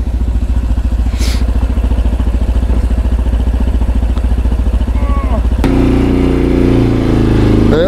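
A Road Prince RX3 Cyclone motorcycle engine runs loud and close while the bike is wheeled into position beside a car. The steady, throbbing idle shifts in tone partway through, with faint clatter in the background.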